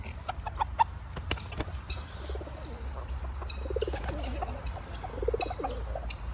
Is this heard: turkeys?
yes